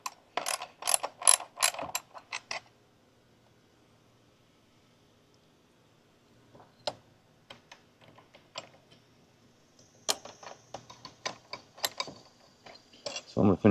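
Ratchet wrench clicking in quick bursts while tightening an oil catch can on a 2023 Ford F-150, a fast run of close clicks, a quiet pause, then scattered clicks and more rapid ratcheting near the end.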